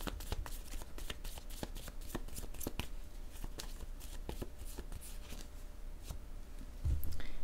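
Tarot cards being shuffled and drawn by hand, a run of crisp, quick flicks and riffles close by at a low level, ending with a louder soft thump.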